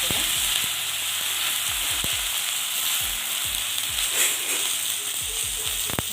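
Rice grains, chillies and curry leaves fry in hot oil with a dense, constant sizzle, while a spoon scrapes and stirs the pan in repeated close knocks and scrapes.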